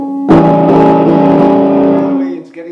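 An electric guitar runs through an overdrive pedal with its hot switch engaged, giving a loud, sustained, distorted chord that rings for about two seconds and then fades, with no voices.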